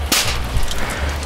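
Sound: popping of moisture driven out of wood soaking in hot paraffin

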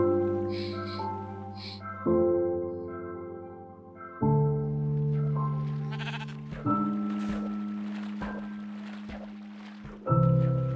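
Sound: sheep bleating in Minecraft video game

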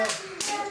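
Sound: kindergarten children clapping

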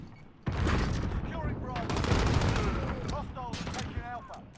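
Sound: shotgun firing in a video game

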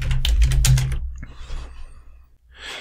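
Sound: typing a title on a computer keyboard

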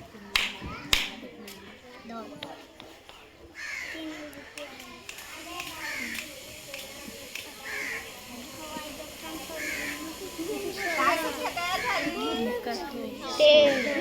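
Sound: children's finger snaps and claps for number recognition

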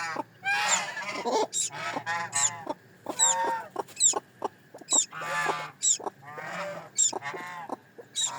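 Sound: newly hatched quail chicks calling

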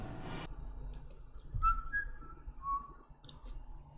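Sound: person whistling

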